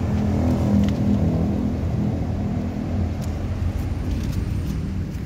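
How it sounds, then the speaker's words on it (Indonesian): A 2016 Toyota Camry 2.5V automatic idles steadily with the engine running, a low, even rumble heard close up with no noticeable revving. "Ini posisi mobil hidup ya"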